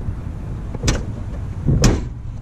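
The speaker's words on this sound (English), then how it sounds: "Shut the trunk, cause I'm definitely gonna take this bad boy around the block." A 1981 Pontiac Trans Am trunk lid is opened and then shut, giving two sharp, close thumps about a second apart over a low, steady outdoor rumble.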